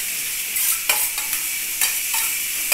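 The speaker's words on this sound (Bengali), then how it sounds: "তা এটা আরেকটু ভেজে নিই।" A dal mixture with hog plum fries in a wok, giving a steady, close, bright sizzle broken by a few scraping stirs of the spoon against the pan.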